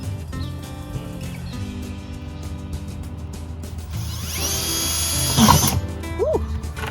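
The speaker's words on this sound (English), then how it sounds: "delay drilling into the bucket in case I ruin the whole thing" A power drill bores into a plastic bucket being fitted for garden watering, a steady whining buzz that swells louder near the end before tailing off, with no one talking.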